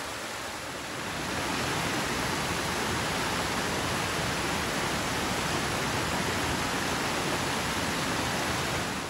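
Gaikotsu Waterfall at the Akame 48 Falls, a broad, constant roar of falling water that swells in the first second and then holds loud and unbroken, with no voices.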